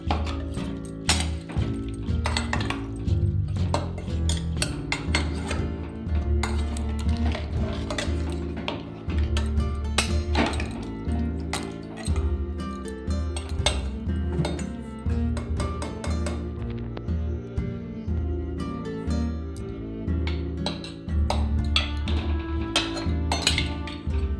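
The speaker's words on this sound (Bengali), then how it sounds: "একটু নাড়াচাড়া দিয়ে আমি প্রেশারটা ঢেকে দেবো।" Mutton being stirred in a pressure cooker, with dense metallic clinks and clanks of a ladle against the pot, followed by the lid being set in place, loud and close, no talking.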